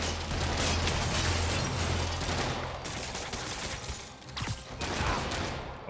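Rapid gunfire bursts from henchmen in the video game Marvel's Spider-Man Remastered, loud and dense throughout, with sharp pops and mechanical clatter amid game action and no talk.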